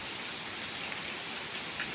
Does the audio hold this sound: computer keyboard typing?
no